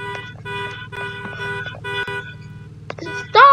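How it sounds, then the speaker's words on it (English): A car horn honks repeatedly in a Roblox cart ride game, several steady toots in a rhythmic run, with a brief shout at the very end. "Bro, would you quit honking that?"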